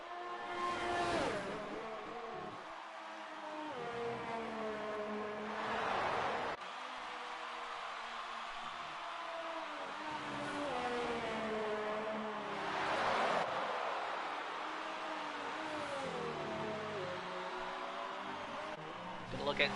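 Formula 1 race cars scream around the Japanese Grand Prix circuit in a racing game, engines whining through rising and falling gear changes with passing whooshes, while a commentator talks over them.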